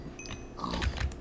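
Cows in the video game Agrarian Skies give short, overlapping low lowing grunts, several animals packed close together against a steady game background hum.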